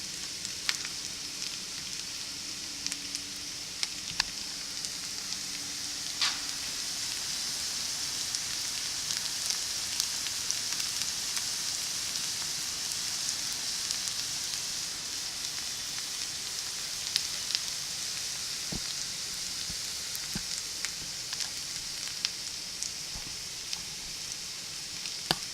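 Hash browns made from rehydrated potatoes fry in a pan, giving a steady, even sizzle with scattered crackles and pops throughout, close and moderately loud with no talking.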